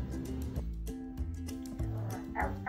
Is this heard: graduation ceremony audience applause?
no